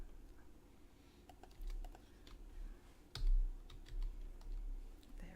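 Scattered keystrokes on a computer keyboard while coding in R, close but fairly quiet, landing in short irregular clusters over a low background hum, with no voices.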